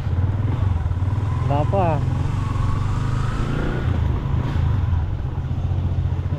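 A motorcycle idles with a low, steady rumble close by as it is readied for a mountain ride, with short rising revs partway through while people chat over the engine.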